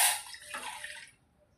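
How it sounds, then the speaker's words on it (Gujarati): A glass of water is poured into a cooking pot, a short splashing gush that runs for about a second and then trails off into quiet. "ગ્લાસ એક નાખી દઈ પાણી."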